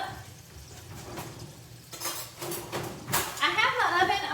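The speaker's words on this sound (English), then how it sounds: "Let me get me a little spoon so I can stir it up." A little spoon stirs paprika and garlic powder in a dish, giving light clinks and scraping taps that grow busier toward the end, while a person talks over them.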